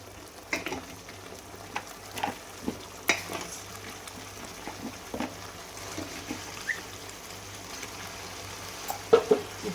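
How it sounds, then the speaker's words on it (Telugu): Mutton paya frying in masala oil, a soft continuous sizzle with repeated spatula scrapes and knocks against the pan at uneven intervals. "ఇప్పుడు ఈ పాయాలని మసాలా బాగా పట్టేట్టుగా 2 మినిట్స్ ఫ్రై చేసుకుందామండి."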